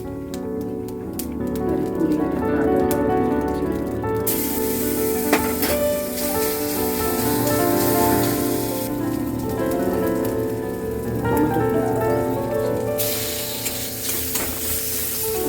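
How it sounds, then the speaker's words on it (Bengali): Cumin and garam masala sizzling in hot leftover oil in a pan, with a dense, steady crackle and hiss running throughout, close and continuous, with occasional brighter spitting bursts. "এবার যে তেলটা পড়ে আছে ওর মধ্যে জিরে আর গরম মশলা দেবো"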